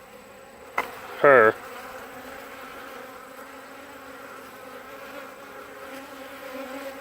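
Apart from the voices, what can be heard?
honey bees buzzing around a rejected queen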